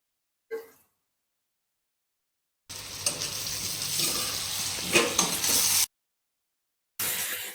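Mushrooms sizzling in a hot pan for a dhaba-style mushroom fry, a steady close frying hiss with occasional pops lasting a few seconds, cut off abruptly and then briefly resuming.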